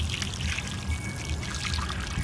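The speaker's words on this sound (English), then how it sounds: "I'm turning on the water, spraying it back into the water heater" Water runs and pours from a water heater drain during flushing, a steady close splashing trickle with no talk over it.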